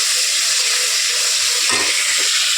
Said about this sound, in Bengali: এদিকে ভাতটা ফুটে গেছে